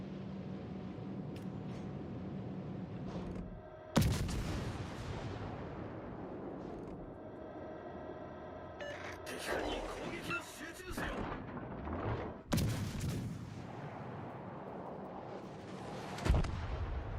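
Battleship guns in a naval video game fire heavy booming salvos, with several loud blasts spread across a background of rumbling engine and sea noise, and a voice talking in between.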